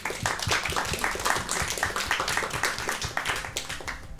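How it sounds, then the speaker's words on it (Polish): Audience applause after a folk band's introduction in a Polish Radio Rzeszów concert studio: dense, steady clapping from many hands throughout, moderately loud and close, with no talking over it. "Brawa dla nich."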